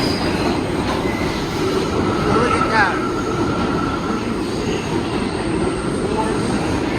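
New York 4 and 6 subway trains pull into a Manhattan station together with a loud rolling rumble and a brief high wheel squeal, while a man briefly exclaims over the din.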